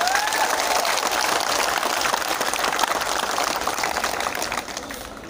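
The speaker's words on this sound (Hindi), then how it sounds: "उनको बड़े हाथ से ताली देना चाहिए" Crowd at a Jantar Mantar solidarity rally in Delhi breaking into loud, dense applause that holds steady, then begins to thin toward the end.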